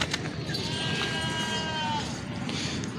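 A Gabon goat bleats at a bustling Haripur goat market, a drawn-out wavering cry rising over constant crowd murmur and background chatter.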